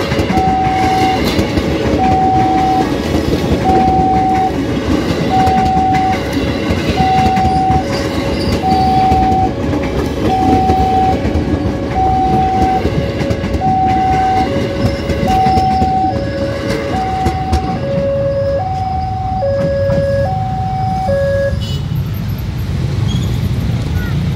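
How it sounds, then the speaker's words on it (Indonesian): Two trains pass the JPL 64 level crossing at Pondok Ranji, Indonesia, their steady loud rumble and clatter running throughout while a crossing bell rings in an even repeating pattern that shifts pitch near the end. "Dua kereta melintas di perlintasan JPL 64 Pondok Ranji."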